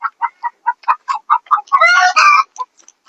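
Desi chickens and a rooster at a poultry farm in Pune, a rapid run of sharp close clucks followed by a longer loud crowing call, then a few fading clucks, with no talking.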